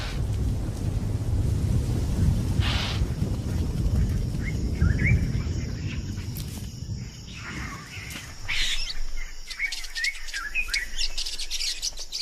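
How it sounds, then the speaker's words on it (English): Rainstorm in southern Africa with a heavy low rumble of thunder and steady rain for the first half, fading into quieter rain as birds chirp and call repeatedly close by. "It's December, and the rains have arrived in southern Africa."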